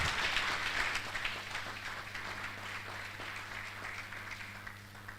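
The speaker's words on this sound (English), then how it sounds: "A big round of applause for her." Audience applause at a valedictory programme honouring a professor, a steady wash of many hands clapping that fades gradually, with no talk over it.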